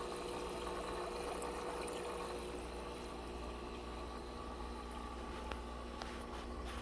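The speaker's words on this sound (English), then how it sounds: "So now it's filtering the tank, it's adding more oxygen to the water, as well as creating surface agitation." Hygger 5-in-1 internal aquarium filter HG052 churning and agitating tank water, a faint, steady pump hum with soft continuous water burble throughout.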